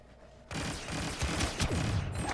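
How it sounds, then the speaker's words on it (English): A sniper shot in Star Wars Battlefront 2 cracks out suddenly after a half-second lull, followed by a dense run of blaster fire, mechanical clatter and explosions in loud, continuous game combat. "Oh, I got sniped."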